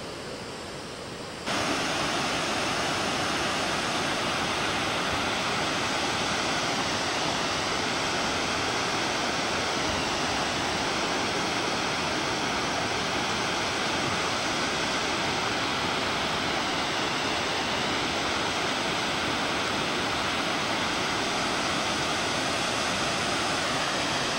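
Rock Creek rushes past in a constant, broad roar of flowing water that stays steady and close the whole time after a brief quieter start.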